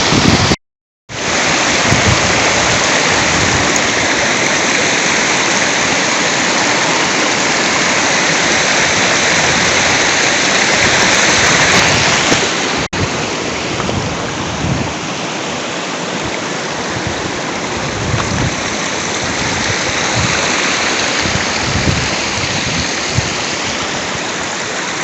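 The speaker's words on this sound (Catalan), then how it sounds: "aquí creuant el riu de Fontalba" The Fontalba river runs beside a mountain trail crossing, giving a loud, steady rushing roar of flowing water that continues unbroken after a brief cut at the start and softens slightly midway.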